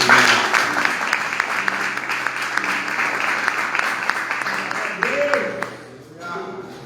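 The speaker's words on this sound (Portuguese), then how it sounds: "Você pode aplaudir Jesus?" A church congregation applauds in a sustained round of clapping, loud and even, with voices mixed in, tapering off toward the end.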